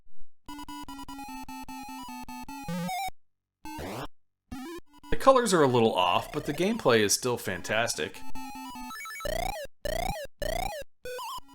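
Square-wave chiptune melody and bleeping game effects from the Atari 7800 version of Dig Dug play in bursts with short gaps, and someone speaks over part of it.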